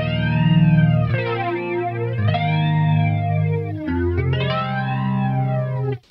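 Electric guitar chords with a sweeping flanger, the tone swooshing up and down in a jet-like whoosh as each chord rings out, played alone.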